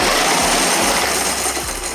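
A brushless motor on an electric pedal cart runs at throttle with the cart lifted off the ground, a loud, dense whir with faint rhythmic ticking for two seconds, close and alone.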